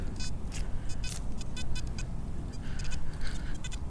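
A metal detector sweeps a park, giving repeated short, choppy high-pitched signal beeps in irregular bursts over constant low outdoor rumble and background noise.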